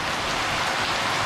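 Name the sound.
rain falling during a night motorbike tour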